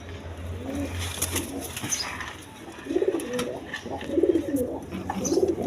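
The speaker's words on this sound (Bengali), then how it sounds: "এক পেয়ার গররা কবুতর আছে, রেড কালার গররা কবুতর," Red Gola pigeons, a pair with a chick, cooing in repeated low rolling phrases close by, with a faint background hum and occasional light rustles.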